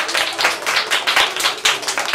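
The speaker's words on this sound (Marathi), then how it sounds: "टाळ्या वाजल्या पाहिजे" Children in a classroom quiz clap together as a reward, a quick burst of loud, close, slightly uneven hand claps in rapid succession.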